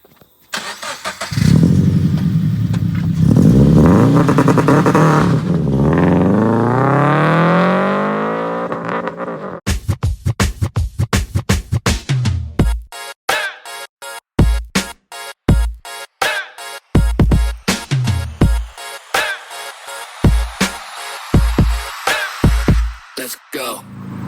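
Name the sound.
2012 Toyota GT86 engine driving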